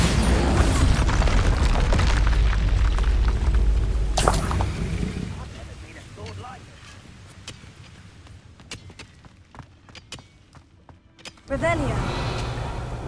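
A Bombarda blast spell goes off in a Hogwarts video game, a loud booming burst amid other spell effects and a sharp hit midway, with a voice speaking over the action.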